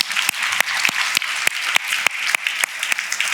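Applause from a summit audience for a philanthropy panel, a small crowd clapping with several sharp, distinct claps standing out over a steady patter, moderately close.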